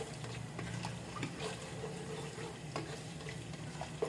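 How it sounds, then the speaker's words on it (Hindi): Whole garam masala fries gently in melted butter, giving a faint, even sizzle with a few soft stirring scrapes, close by and without voices. "मैं ये साबुत गरम मसाला डाल रही हूँ इसमें, इसको थोड़ा इसके साथ फ्राई कर लेंगे।"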